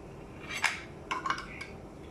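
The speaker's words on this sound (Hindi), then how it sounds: "अभी इस मसाले में मैं डालूँगी अंडे।" Boiled eggs dropped into a pan of ground spice masala for a tandoori egg curry, giving a few soft clinks and knocks against the pan, quiet and close with no talking.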